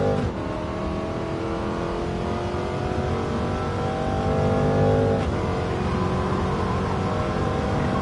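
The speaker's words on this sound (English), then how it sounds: "Oh, too much wheel spin." A De Tomaso race car in Gran Turismo 7 at Monza, its engine roaring loud and steady for about eight seconds as the wheels spin, with no talking.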